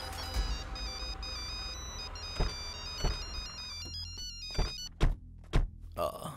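A repeating electronic phone ringtone melody plays, interrupted by several dull thumps, then cuts off as a voice briefly speaks.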